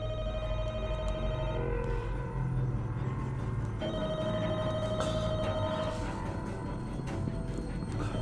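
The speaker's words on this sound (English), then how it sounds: "Oh, the phone is ringing." A telephone ringing in The Walking Dead: Michonne video game, tonal rings repeating over a constant low rumble of game ambience.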